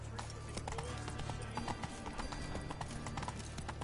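Roach, the horse from The Witcher video game, clip-clops in a steady, close hoofbeat rhythm over a low ambient bed.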